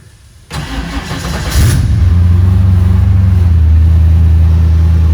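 An Ice Charger car engine, long unused after its battery died, starts on a new battery: a brief cranking, then the engine catches and settles into a loud, steady, deep idle close by, with no talking.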